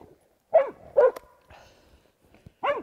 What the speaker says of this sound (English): I knew when she went back in there barking.